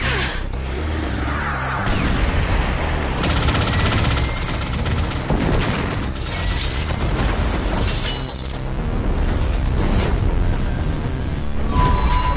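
Fighter jets fire on a monster in an animated sci-fi battle: loud, sustained rapid gunfire and heavy booming explosions fill the scene almost without pause, dense and close throughout.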